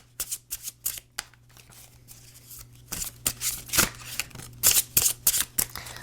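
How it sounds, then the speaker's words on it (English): A deck of tarot cards is shuffled by hand in a string of crisp, rapid riffling bursts, close and fairly loud, with short pauses between passes and a steady low hum underneath. "just want to shuffle this on camera a couple of times so you know that it really is shuffled here."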